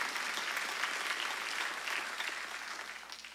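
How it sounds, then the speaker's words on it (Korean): A congregation at a Sunday church service claps together in a steady, dense burst of applause that carries on evenly and eases slightly toward the end. "믿으면 박수로 하나님께 박수"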